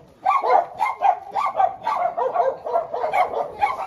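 Several dogs bark and yip in quick, overlapping bursts, loud and close, continuing without pause throughout.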